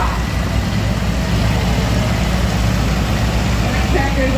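A 1956 John Deere 620 tractor engine runs steadily at a threshing show, a constant low throbbing rumble close by with dense crowd and background noise over it.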